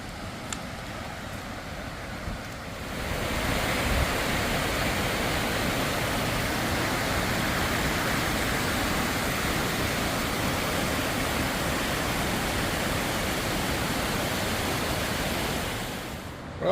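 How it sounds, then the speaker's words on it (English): The waterfall at Big Spring Creek in Gifford Pinchot country roars as a loud, steady rush of falling water. It swells in after a quieter opening of a few seconds, then holds a constant, full hiss before easing off at the end. "I'm gonna check out the waterfall."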